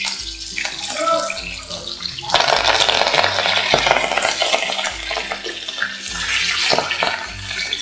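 Curry leaves and slit green chillies frying in hot oil for vegetable rava upma: a steady, close sizzling hiss that swells louder partway through, with a background tone and no talking.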